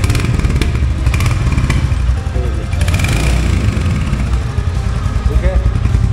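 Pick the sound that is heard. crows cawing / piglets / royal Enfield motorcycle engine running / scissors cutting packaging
royal Enfield motorcycle engine running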